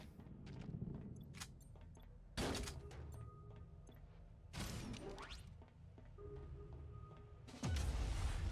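In the space game Void Bastards, torpedoes launch at pirate ships: three heavy whooshing blasts with thuds, separated by quieter mechanical clicks and a faint hum, and the loudest comes at the end.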